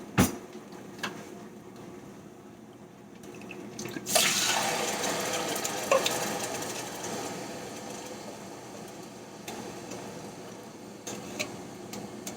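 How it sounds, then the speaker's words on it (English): A whole can of coconut milk pours into a cooking pot. A steady liquid stream starts a few seconds in and runs continuously to the end, close and moderately loud, with small clinks at the start. "we're going to dump this entire can of coconut milk in there"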